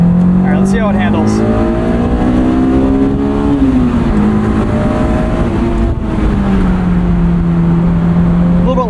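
A 2003 Honda S2000 sports car with 19k miles, on Firestone tires, driven hard from inside the cabin: a loud sustained engine drone that rises and falls through gear changes, with a voice speaking briefly over it.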